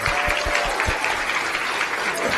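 Graduation ceremony audience at a Middle Eastern and North African graduates' event applauds its speakers, a dense, steady wash of many hands clapping that continues throughout without a break.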